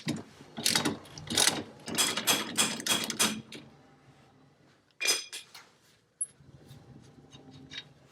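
A breaker bar with a cheater bar works loose the fasteners of an ATV's lower A-arm, making a close run of rapid metallic ratcheting clicks, then a brief pause, a short burst and scattered clinks.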